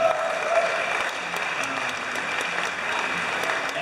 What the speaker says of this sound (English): Let's give a big round of applause to TechCrunch